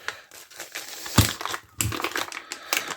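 A cut-open AliExpress mailing package is pulled apart and handled, giving close crinkling and crumpling plastic sounds with a few sharper rustles and tearing bursts.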